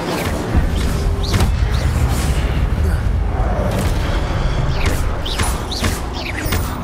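Spell effects from the Hogwarts Legacy game, including the Incendio fire spell, producing a dense rumbling burst of booms and whooshes amid continuous combat noise and shouted voices.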